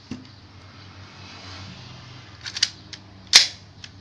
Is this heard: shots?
yes